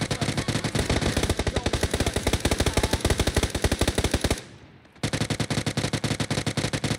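Rapid automatic gunfire from weapons in a multiplayer shooter video game, dense evenly spaced bursts filling the clip, with a brief drop into near silence just before the final stretch when the firing resumes just as loud and fast.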